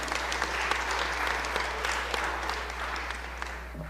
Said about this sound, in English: Would y'all please give them a round of applause?